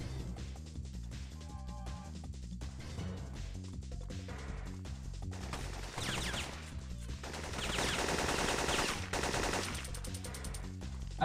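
Rapid gunfire from the PlayStation shooter Syphon Filter, bursts of shots and crashes layered over game music, growing denser and louder toward the end with no voices.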